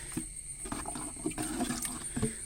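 A stranded fish is scooped up and dropped back into clean pond water, giving a few faint splashes and soft sloshing bursts that come and go quietly over a couple of seconds.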